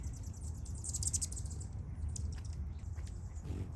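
Small birds at four busy back-porch feeders give light, scattered chirps and tweets, fairly faint over a low steady background rumble.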